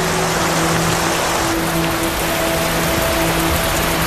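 Heavy rain pours down in a leopard's habitat as a dense, constant hiss of drops on surfaces. A faint low hum runs beneath it throughout, and no one speaks.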